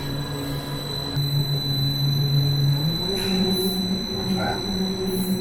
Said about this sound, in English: You can hear the valve restricting the flow.